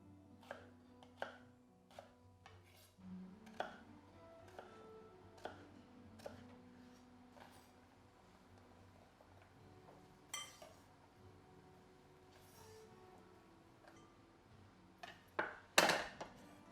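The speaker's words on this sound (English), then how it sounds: "here I'm really going around the core because the peach is so nice, tasty and beautiful" A knife cuts a peach around its core on a board, with irregular sharp taps and soft slicing scrapes, faint and close, spaced unevenly and ending in a cluster of louder clicks.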